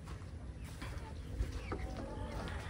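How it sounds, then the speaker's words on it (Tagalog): Darag chickens cluck softly on a farm, a few faint scattered clucks and calls over low background noise, fairly distant and quiet. "Ito, meron tayong mga darag chicken."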